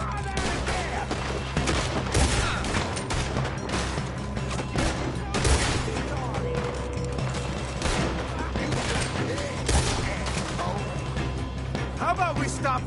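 Video game shootout with repeated gunshots and volleys cracking over continuous action noise, while characters shout and talk throughout.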